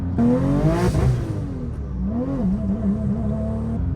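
A Porsche 911 Turbo revving hard in first gear up to its rev limit, a loud rising engine wail that peaks, then drops to a fluctuating idle-like drone.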